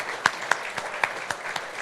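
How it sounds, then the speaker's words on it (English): Sparse, steady claps from a small part of a banquet audience, evenly spaced at a brisk rhythm and fairly faint, with no talking. "a round of applause for Dr. Jill Riley for those wonderful words of wisdom"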